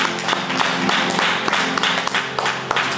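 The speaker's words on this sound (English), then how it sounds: "Come on and clap your hands and give me glory." A church congregation claps in rhythm, sharp regular hand strikes layered over background music and crowd noise, fairly loud and close throughout.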